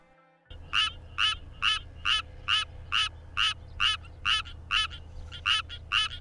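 A tree frog calls at night, giving about a dozen loud, close, evenly spaced rasping notes in a quick regular rhythm after a brief quiet start, with no talking.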